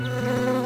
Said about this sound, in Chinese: 蜜蜂，你去哪儿？